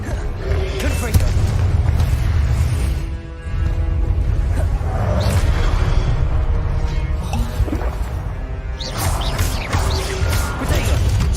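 Confringo blasting curse in Hogwarts Legacy gameplay: loud, continuous booming and crashing explosions with whooshes, dense and close, layered over game music and effects.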